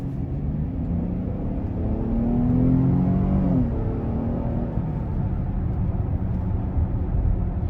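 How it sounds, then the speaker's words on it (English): A 2020 Cadillac XT6 Sport with the Platinum Package accelerates out of a corner in sport mode, a steady low rumble heard from inside the cabin that swells slightly and holds high revs, with no talking. "sport mode just pushes it a little bit more, and it keeps the transmission in higher revs"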